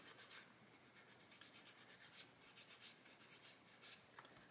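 A thin sanding stick rasps lightly over parts of a 1/35 Chieftain Mk10 tank scale model in short rapid bursts of strokes, soft and close, with brief pauses between runs.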